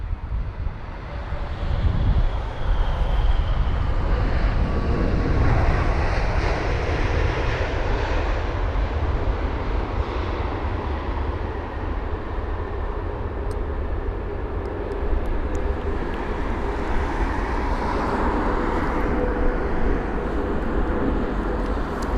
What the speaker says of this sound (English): that 787 that just touched down